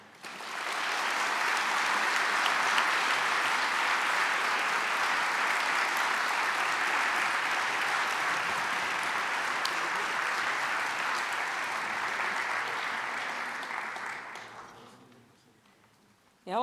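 Sustained applause from an audience honouring graduating students at a graduation ceremony, steady and full for about fourteen seconds before tapering off.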